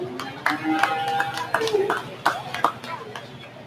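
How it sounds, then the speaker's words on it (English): A small crowd at a 4-H cattle show claps for the winners of a starter heifer class, producing a scattered, uneven patter of hands with distinct sharp claps and background voices. "Again, let's give those good round of applause."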